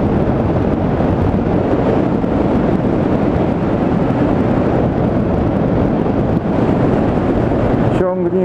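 Strong wind roars through an open car window on a moving car, a loud, continuous buffeting rush that fills the whole clip and cuts off abruptly at the end.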